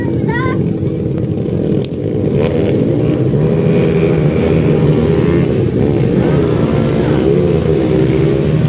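Loud, continuous engine roar from trail motorcycles revving and racing in a race final, droning steadily with shifting pitch throughout.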